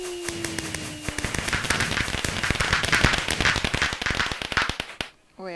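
Minecraft fireworks launch with a rising whistle, then a dense burst of rapid crackling pops for several seconds before cutting off.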